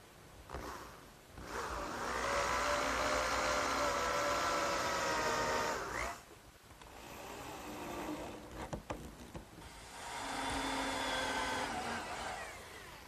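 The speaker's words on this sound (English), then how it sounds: "I'm just going to put 4 screws down each edge" Power drill driving screws into a wooden workbench, two long steady whirring runs with a short pause and some rattling handling between them, fairly close and without talk.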